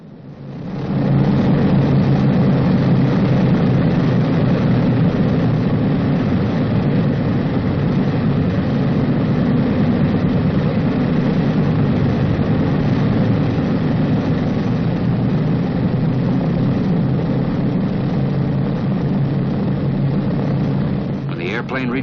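Boeing B-29 Superfortress piston engines run steadily before taxi, a loud low droning rumble that holds constant throughout, with a voice talking over it.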